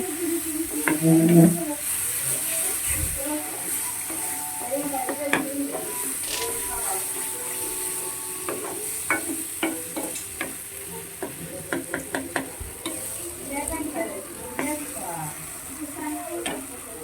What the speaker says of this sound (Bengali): দিয়ে এগুলি ভালোভাবে নাড়াচাড়া করে ভেজে নেব